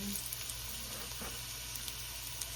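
Chopped onions sizzle in a hot pan as they are added, making a steady, fairly quiet frying hiss with a few faint crackles and clinks over it.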